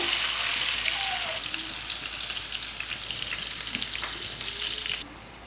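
Curry leaves and prawns fry in hot oil for a Kerala prawn stir-fry, a loud crackling sizzle that settles into a softer, steady frying hiss near the end.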